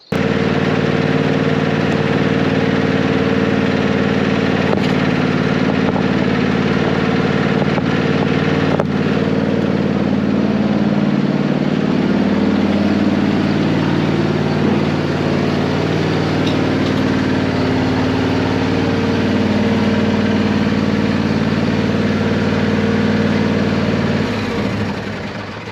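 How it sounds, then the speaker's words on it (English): A John Deere ride-on mower engine runs steadily and loud at close range on a Devon smallholding, a constant droning hum with no pauses, alone without talk. "we're going to go put the ride on Mower away, finish with it for the day"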